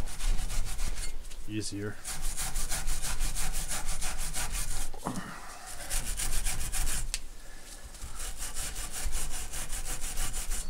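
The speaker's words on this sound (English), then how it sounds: "let me just scrape it so I'm not dragging rust into the nut itself" Rusty bolt threads on a Gravely MA210 snow thrower being scraped with a tool, a steady rasping scrape running continuously at close range with brief louder strokes and a short spoken word.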